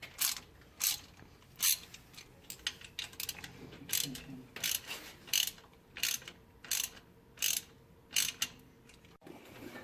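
A ratchet wrench working manifold bolts loose on a Stormtrooper Genesis coupe in a garage, with a rapid run of clicks followed by a steady series of sharp, evenly spaced ratcheting bursts, close and clear.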